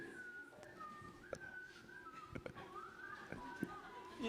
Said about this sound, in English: Let's have a whistle contest right now.